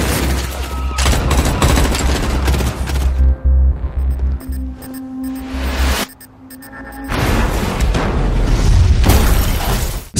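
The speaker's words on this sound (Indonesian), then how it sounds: "juga meledakkan bom yang akhirnya menewaskan bawahan Lim" Bomb blasts in a Korean crime action film: loud, near-continuous booms and gunfire-like bursts, a short quieter lull in the middle, then another heavy roar of explosions.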